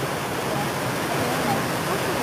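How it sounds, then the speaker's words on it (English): Water rushes steadily over a mill water wheel in a continuous, loud, close roar. "Now the more water comes, the more the wheel will turn."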